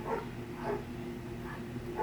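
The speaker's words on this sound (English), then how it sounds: "I don't know what the dogs are barking at." A household dog barks a few times somewhere in the house, short faint yaps spaced out over a steady low background hum.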